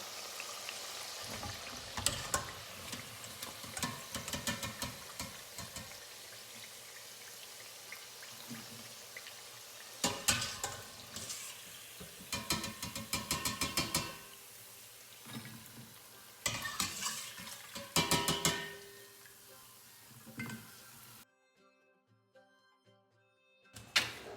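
Chebbakia, the Moroccan honey-soaked pastry, frying in hot oil: a close, steady crackle and sizzle with bursts of bubbling and utensil stirring, fading to quiet near the end.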